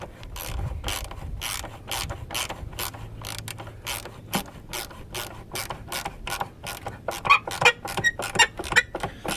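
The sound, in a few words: ratchet with 10mm deep well socket on Honda CRV battery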